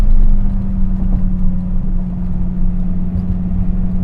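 A Dodge Viper GTS pulls hard in third gear, its engine a loud, steady droning hum heard from inside the car, with no voices.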